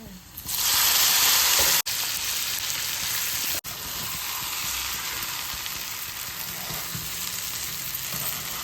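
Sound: lentils added to hot tempering, sizzling

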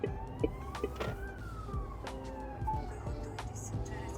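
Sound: ambulance siren

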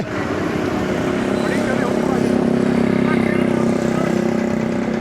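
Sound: motorcycle engine

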